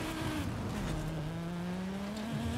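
A car driving in the racing video game Forza Horizon 5, a steady engine drone with rising pitch as it accelerates, tire noise beneath, continuous and even.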